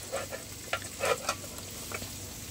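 Soft sizzling of food frying in a pan, likely potatoes, with a few light stirring scrapes over a steady low hum; no voices.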